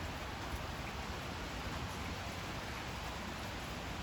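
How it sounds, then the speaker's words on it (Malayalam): Rain falls steadily at a home on a cool, wet day after heavy showers, making an even, soft hiss with no breaks or voices. "ഇന്നും ഇവിടെ നല്ല മഴ പെയ്തുകൊണ്ടിരിക്കട്ടെ."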